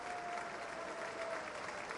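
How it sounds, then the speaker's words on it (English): Faint distant applause from members of Congress during a speech by Obama, a thin steady wash of clapping with no distinct individual claps, quiet throughout. "That's all we got is a little applause."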